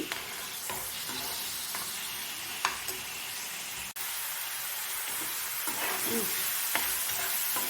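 Ingredients for a small fish and raw mango curry fry in a pan while being stirred, a steady close sizzle with scraping and spattering, one brief dip midway, no voices.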